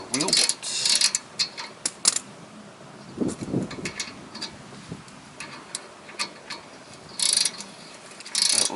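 Tap cutting threads in wheel bolt holes, a series of close metallic ticks and ratcheting clicks in irregular bursts, some louder scrapes among them, with faint background noise.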